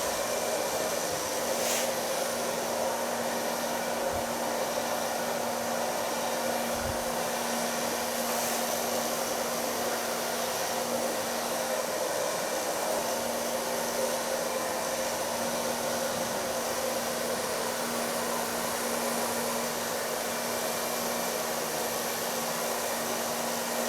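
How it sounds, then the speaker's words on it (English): A hair dryer blows steadily while a punky pixie hairstyle is blow-dried, a constant close whooshing hum with a faint tonal whine that runs unbroken throughout, with no talking. "So far blow drying."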